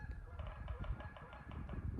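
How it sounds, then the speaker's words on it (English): Geese honk outdoors at a moderate distance, repeated calls rising and falling over a steady background murmur, with a quiet voice faintly present beneath them. "oh, there go the geese, can you hear that?"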